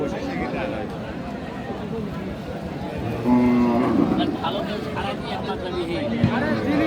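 A Friesian cow at a cattle market gives a brief low moo amid a busy crowd, with people talking and chattering loudly throughout.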